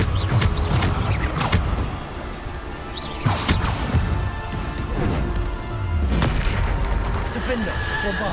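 Bombarda explosion spells in the Hogwarts Legacy video game land as repeated booming crashes and cracks, with mechanical creaks between them and a continuous game soundscape behind.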